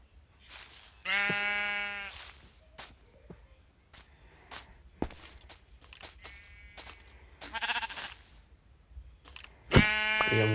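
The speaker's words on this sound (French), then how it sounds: "Il y a un mouton qui est monté dans le bateau." Sheep in Minecraft bleat several times in short, buzzy cries, loud and close, mixed with scattered game clicks, thumps and crunching effects.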